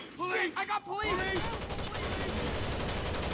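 Rapid automatic gunfire from the shooter game Rainbow Six Vegas in Terrorist Hunt mode. A voice is heard briefly first, then a loud, sustained burst of shots goes on to the end.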